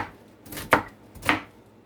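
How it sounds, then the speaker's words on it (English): Two crisp knife chops through cabbage on a cutting board, close and distinct, about half a second apart, with no other sound. "And cut off the tough part because that's gonna be of no benefit."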